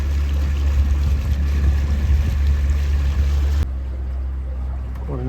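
A motorboat engine on the Murray River runs steadily near the narrows, revs raised to over 8 km/h, a loud continuous low drone with water noise that drops in level near the end.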